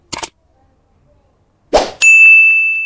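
A short click and a soft thump come first, then a bright bell ding rings out and sustains cleanly, loud and isolated.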